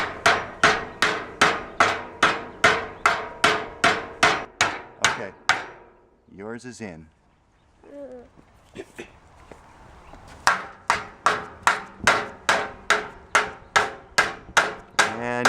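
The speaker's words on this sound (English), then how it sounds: "I want you to use the side of the hammer and tap it." Children hammer pieces into place while building a BBQ, striking with the side of the hammer in fast, even runs of sharp knocks. A pause in the middle is filled with brief talk, then the rapid tapping resumes.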